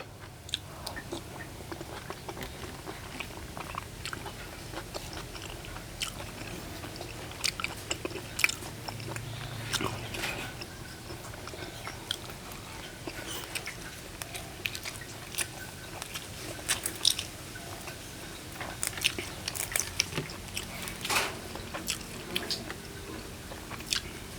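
Crunchy boiled beef tendon in a spicy Isan-style soup being bitten and chewed close up, with repeated crisp crunches and wet squishy chewing sounds continuing steadily throughout, with occasional talk in the background.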